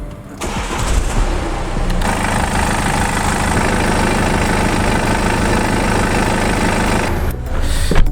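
The diesel engine of a BMW 520d F10 with a ZF 8-speed gearbox idles steadily and loudly up close during a transmission oil fill, a constant low rumble with a brief rougher surge near the start and end.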